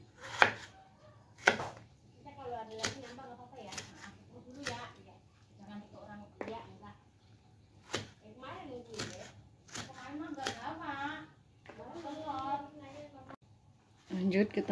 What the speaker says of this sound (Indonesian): Lanjut kita potong tomat hijaunya.